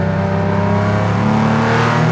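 Porsche race car engine running hard on track laps at Sturup Raceway, a loud, steady close-up drone with strong harmonic tones that rise slightly in pitch as it accelerates, no talking.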